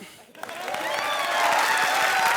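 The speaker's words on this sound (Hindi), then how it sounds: "चलो जोर से ताली बजाओ" A studio audience at a televised comedy show breaks into applause that swells from a sparse start into loud, sustained clapping and cheering.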